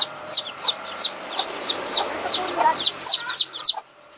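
A mother hen clucks softly in a dark coop while her brood of about seven chicks peep in a steady run of high, rapid chirps close by, the peeps pulsing every third of a second.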